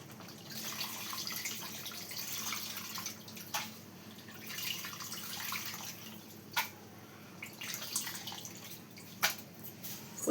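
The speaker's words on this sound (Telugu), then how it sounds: "పులుసు వేస్తున్నాను చూడండి" Tamarind juice poured into a simmering curry, a soft liquid trickle and splash with a few sharper drips and clinks against the pot, fairly quiet.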